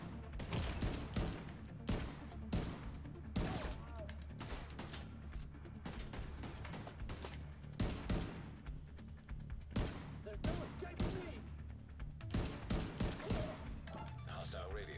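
Gunfire from a weapon in the shooter game The Division 2: repeated bursts of punchy shots and rapid volleys in close succession, with thuds and background game noise and a voice talking at points.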